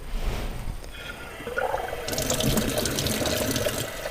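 Water poured from a can or jug onto a potted plant indoors, a steady splashing trickle that grows louder and brighter partway through, heard alone at close range.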